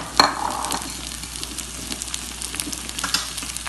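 Beans sauté with small shallots in a pan, a moderate crackling sizzle with an initial clatter as they go in, followed by light stirring taps.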